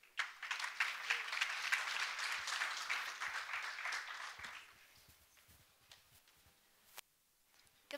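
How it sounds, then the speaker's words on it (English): Audience applause at a conference for a moderator taking the stage, loud and dense for several seconds, then thinning out to scattered claps and quiet. "Please, a big applause for Kelly."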